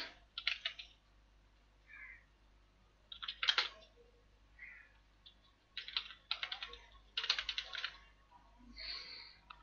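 Bursts of keyboard typing, quick clicking keystrokes in short clusters separated by pauses, close and fairly quiet, with no talking.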